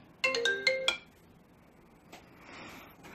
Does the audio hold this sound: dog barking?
no